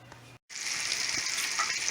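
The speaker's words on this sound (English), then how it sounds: "I'm going to drop this other piece of fish, and while it's frying" A short gap, then fish in hot oil sizzles loudly and continuously with a bright, crackling hiss.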